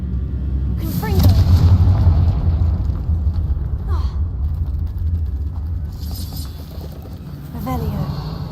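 In Hogwarts Legacy, a Confringo fire spell bursts with a deep, booming blast that rumbles for a couple of seconds, followed by softer rattling game effects.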